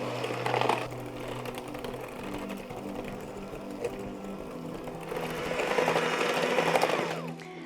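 An electric mixer whirs steadily through red velvet cookie dough, a continuous motor hum with a harmonic whine that swells louder near the end before cutting off abruptly.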